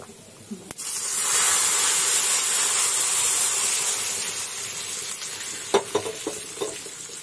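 A hot tempering (popu) is poured into buttermilk for majjiga pulusu, setting off a sharp splash and a loud, sustained sizzling hiss that slowly fades, then a few clinks at the end.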